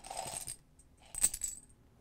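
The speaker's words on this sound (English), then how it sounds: "When you play this game, see, this is how you roll your dice." Five Yahtzee dice rolled together with a few chips mixed in, rattling in two close bursts: a short clatter, a pause, then a sharper tumbling clatter settling quickly, with no talk.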